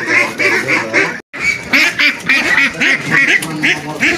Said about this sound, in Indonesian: Ini bebeknya bebek tua ya, sahabat.